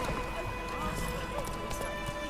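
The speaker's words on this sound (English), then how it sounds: "I think I'd choose a different name for my horse than Roach" Horse hoofbeats in The Witcher 3 game, a steady run of clip-clop steps under continuous background game ambience, fairly close and even throughout.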